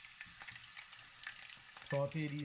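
Pork bites sautéing in a pan for garlic pork, a steady sizzle with light stirring scrapes, growing louder near the end as the pan crackles more strongly.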